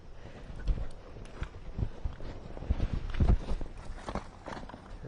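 Horse hooves clip-clop in an uneven, shuffling rhythm on the ground close by, with a young hand-reared foal nearby; the steps are moderately loud and irregular rather than a steady gait.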